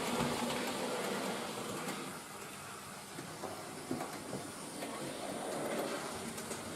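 A Hornby King James I model train locomotive runs on its track, a steady close rolling rumble with faint rhythmic clicks and light rattles continuing throughout.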